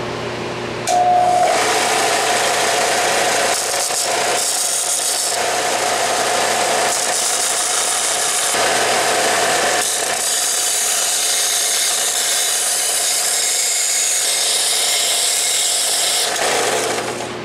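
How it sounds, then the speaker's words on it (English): Grinder grinding the tips off metal pins held in vice grips, a loud, close, continuous abrasive whine with a few brief dips as the tool is repositioned, no talking. "I'm going to grind off the tips, and then I'll flip them all around and grind off the heads"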